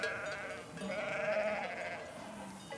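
A flock of sheep on a shepherds' droving route in Rhône-Alpes bleats in overlapping, drawn-out cries, fairly close and loud, with no talking.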